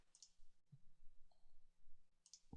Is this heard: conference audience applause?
no